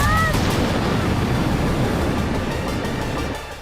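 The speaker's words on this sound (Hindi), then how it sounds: "यूक्रेन की राजधानी कीव में भी धमाके हुए हैं।" Explosions during a Russian missile attack on Kyiv, heard as a loud, rumbling blast whose dense roar holds for a few seconds before slowly fading.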